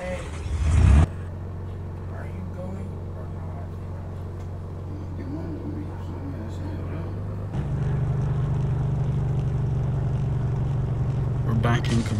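A car reverses in the Car Parking Driving School video game, its engine humming steadily and then stepping up to a louder drone partway through, with a brief burst of noise at the start.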